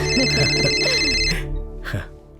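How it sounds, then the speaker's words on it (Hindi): An electronic telephone ringtone sounds in an indoor domestic scene, a steady multi-tone ring lasting just over a second and mixed with background music and other sounds. A short burst of noise follows. "तुम्हारी फ्रेंड रूपा का फोन है।"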